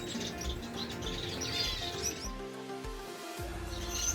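Pet finches and canaries chirp and tweet in overlapping, busy bursts. The calls are fairly faint, with some rustling and a low background hum.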